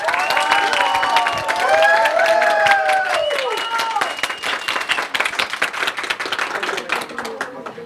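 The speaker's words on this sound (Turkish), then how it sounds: "Alkışlarınıza Yıldız Karatay'ı buraya davet ediyorum." An office audience applauds at a company award ceremony as an honoree is invited up. The clapping is loud and steady, with a voice speaking over it at first; it then thins toward scattered claps.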